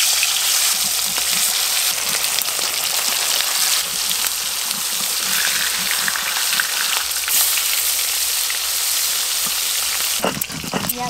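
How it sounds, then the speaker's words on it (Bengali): Fish frying in hot oil for a spicy Bengali dish, a loud, steady crackling sizzle close up with a brief clatter near the end. "এবার মাছগুলো ভালো করে ভেজে নেব।"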